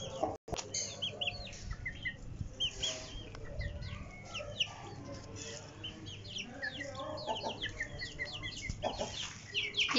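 Pet chickens and small chicks clucking and chirping around a home yard, a busy chorus of close and overlapping calls, with someone talking over them throughout.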